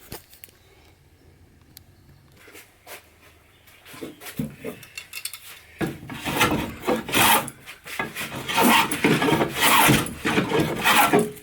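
Rough rasping strokes scrape across the wood of a hickory-backed yew bow, sparse at first, then quickening into a steady rhythm of loud, close filing.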